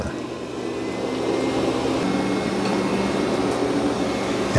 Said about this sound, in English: All right, mop pads are lifted, and it increases the vacuum power.